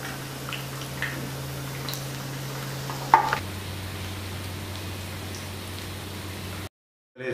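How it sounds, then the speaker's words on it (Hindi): A steady, gentle sizzle of fish golden-frying in hot oil, with a few faint pops and a brief clink partway through, before the sound cuts out. "इस तरह से तेल में गोल्डन फ्राई कर लेंगे।"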